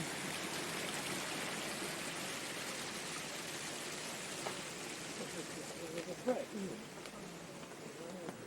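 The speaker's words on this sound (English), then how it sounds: "Standing on a very narrow bridge, you can see the little waterfall there." A small waterfall beside a narrow bridge in Chelmsworth gives a faint, steady broadband rush throughout, with a few soft bird calls and faint background voices near the end.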